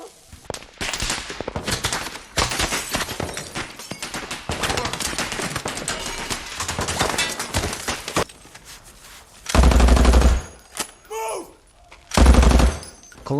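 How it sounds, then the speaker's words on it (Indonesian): Al-Qaeda fighters fire on a house in a war film, with sustained bursts of loud, close gunfire followed by a few heavier, isolated volleys amid the chaos. "Kelompok Al-Qaeda menembaki rumah yang menjadi markas dari tim Eric"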